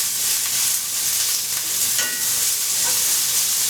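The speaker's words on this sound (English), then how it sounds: "So we're just going to let these onions soften up before I add the carrots." Onions soften and sizzle in a pan, a steady close hiss of frying with faint stirring scrapes running throughout.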